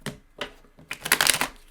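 Tarot cards being shuffled in bursts, with soft riffling around the start and half-second mark, then a denser, louder flurry of papery flicks near the end; no talking.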